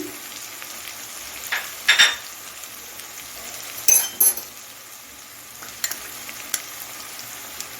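Tomatoes with chili, coriander and turmeric powders fry in a pan on a home stove, giving a steady low sizzle with a few sharp spoon scrapes and clinks as the mixture is stirred.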